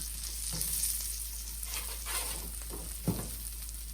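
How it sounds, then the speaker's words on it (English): Vegetables for cauliflower potato soup sizzle steadily on a roasting tray, a constant hiss with faint scraping and a small clatter as they are moved. "it's sizzling away so beautifully"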